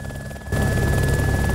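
A helicopter in the video game DayZ starts up abruptly partway through, its rotor thrumming loud and close with a steady engine whine after a quieter lead-in.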